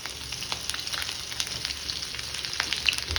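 Ginger dropped into hot oil for bhokri varan, a soft, close sizzle with a steady run of fine crackles and pops.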